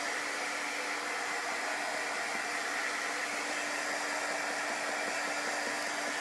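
A hair dryer blows steadily on chalk paint for a chalk craft project, a constant close, loud airy whoosh with a faint motor hum running unbroken throughout, no talking.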